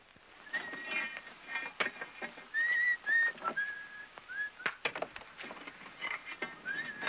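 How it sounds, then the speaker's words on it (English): A person whistles a short, wavering tune in a few brief phrases, set against clattering and knocking sounds nearby. "Hey, cut out that whistling."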